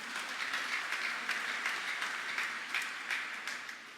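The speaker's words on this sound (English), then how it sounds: "Let's give them a round of applause, please" An audience at a church gathering claps in a steady, sustained round of applause, moderately distant and even, with no voices standing out.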